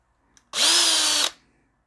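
A power tool whines briefly as it cuts a small chamfer into a vintage-style guitar tuner part, a single loud burst under a second long that spins up and stops abruptly, close by with no speech.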